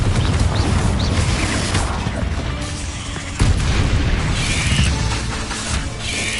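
Confringo fire-spell blasts in the Hogwarts Legacy video game: loud, dense, rumbling booms and crashes run almost continuously, with a brief dip midway before another heavy burst of explosions.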